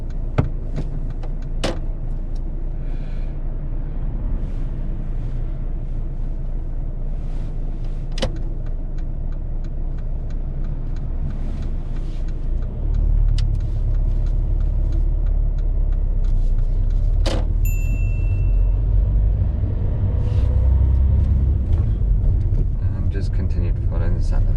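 A learner driver's car pulls away on a UK road, a soft low engine rumble rising as it moves off, with an instructor's voice and scattered clicks inside the cabin.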